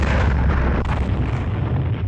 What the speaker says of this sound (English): causing an explosion that is heard all across the shallow valley